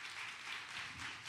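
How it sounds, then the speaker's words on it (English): A workshop audience claps hands together, a steady, faint, diffuse patter of many hands heard from a distance throughout. "I want you to clap your hands again"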